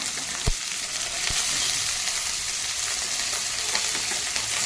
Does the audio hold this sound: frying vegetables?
yes